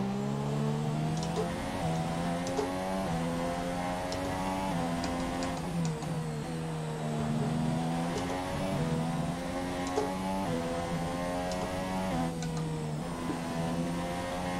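A Formula 1 car in the F1 2017 racing game screams at full throttle through a Spanish Grand Prix lap, its high engine note climbing and dropping with repeated quick gear shifts, loud and continuous with no talking.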